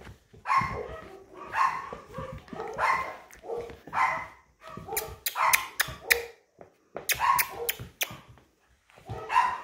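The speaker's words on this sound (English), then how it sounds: "It's puppy number three, girl number three." A young puppy, third girl of a litter, yips, whimpers and barks in short repeated bursts, close and fairly loud, with brief quiet gaps between calls.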